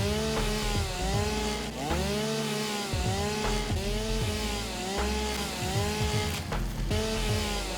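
A chainsaw in the Satisfactory factory-building game cuts down a tree, its engine rising and falling in repeated revving pitch sweeps over a steady low drone, loud and close throughout.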